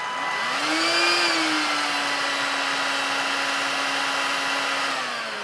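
A Dirt Devil HandiClean 14.4V cordless stick vacuum whirs up to speed, holds a steady motor whine with its brush roll turning, then begins to wind down, close and alone.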